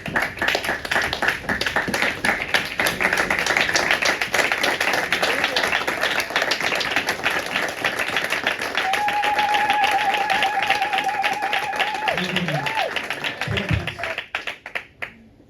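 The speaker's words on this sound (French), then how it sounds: "Est-ce que nous pouvons applaudir pour Jésus?" A church congregation at a Sunday service claps together, a loud sustained patter of many hands close by, with a tonal keyboard note and some voices in the background before the clapping thins out at the end.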